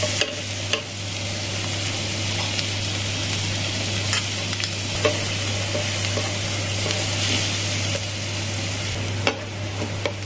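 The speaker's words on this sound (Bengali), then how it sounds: "বাটারটা পুরো মেল্ট হয়ে গেছে, এবার আমি যে পেঁয়াজ আর রসুনটা রেখেছিলাম ওটা দিয়ে দিলাম" Onion and garlic sizzle and fry steadily in melted butter in a pan, with occasional clinks of stirring over a constant low hum.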